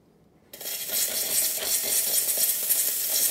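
A Rancilio Silvia espresso machine's steam wand bursts into a steady, loud hiss after a short silence and keeps blowing without a break.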